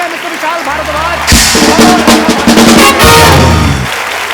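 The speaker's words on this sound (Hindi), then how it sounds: "जोरदार तालियां" Studio audience on a Hindi TV comedy talk show bursts into loud applause in two sustained waves for arriving guests, clapping dense and close, with music playing underneath.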